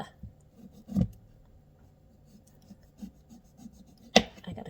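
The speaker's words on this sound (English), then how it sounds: "I gotta sharpen this knife." A kitchen knife being sharpened with a few scattered rasping strokes, sparse and fairly quiet, with two louder scrapes standing out against a low background hum.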